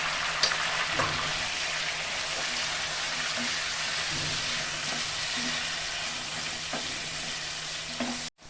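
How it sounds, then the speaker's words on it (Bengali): Chicken with ginger, garlic, green chilli paste, turmeric, coriander, cumin and Kashmiri chilli powder frying in a pan, a steady loud sizzle with occasional scrapes of a spoon stirring, constant throughout and cut off abruptly at the end. "আমি একটু ভালো করে ভেজে নেব"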